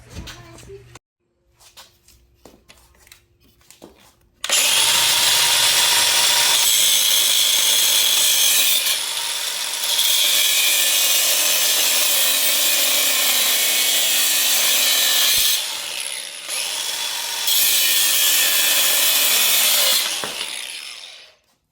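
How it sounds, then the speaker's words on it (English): A power tool cutting the shift weight off a Lotus Elise transmission, a loud harsh grinding roar running in long bursts with brief pauses, preceded by quiet handling and a voice speaking. "I had to cut the shift weight off so I can install the bracket for the shifter cables."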